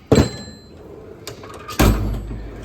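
A metal tool box drawer is pulled open in a garage, giving two distinct sliding clunks about two seconds apart with a softer rattle between them. The sounds are close and clear.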